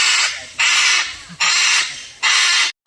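Loud harsh bird calls sound inside the bird nursery at Parrot Mountain in Pigeon Forge, four raspy squawks in a steady rhythm, close and with no talk.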